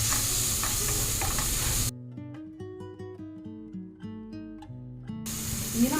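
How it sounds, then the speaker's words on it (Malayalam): Onion, garlic and ginger sizzle and hiss in a hot pan for a crab roast, loud at the start, then cut away for a stretch of music before the frying noise returns at the end. "അപ്പോൾ സവാള നല്ല ലൈറ്റ് ബ്രൗൺ നിറമാകണ വരെ മാറ്റിയെടുക്കണം കേട്ടോ. അതിന് ശേഷം ഞാൻ വെളുത്തുള്ളി ഇഞ്ചി ഇട്ട് കൊടുത്തത്"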